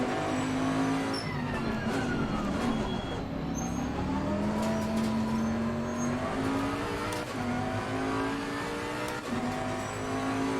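Engine of a heavy Bentley race car in a sim racing video game, revving and accelerating continuously with rising and falling pitch sweeps as it shifts through gears, loud and steady throughout.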